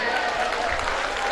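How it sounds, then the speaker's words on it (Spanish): A concert audience at an outdoor ranch event applauds in a dense, steady burst of clapping, close and loud, for a brief moment. "El aplauso, por favor, que se escuche."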